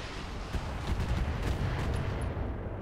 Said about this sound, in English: God, those AC rounds sound so heavy